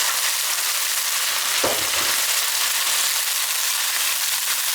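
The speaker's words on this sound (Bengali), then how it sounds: "এখন অল্প একটু গরম পানি দিয়ে দিচ্ছি" Korma spice paste fried for about ten minutes to golden brown, with hot water poured in producing a loud, steady sizzle and a brief bubbling burst, continuous throughout.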